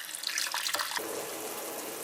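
Hot water poured from a height into a clay pot holding fried fish bones, a splashing rush for about a second that then settles into a softer bubbling hiss.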